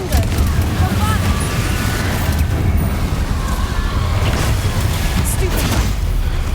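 Spell blasts from Bombarda and Confringo in Hogwarts Legacy during a fight with Inferi, heard as dense rumbling booms over constant low battle noise, with cast calls shouted over the fighting.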